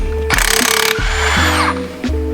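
Rapid rattling bursts from an impact driver loosening bolts in a garage, with short hammering pulses separated by brief pauses over steady background hum.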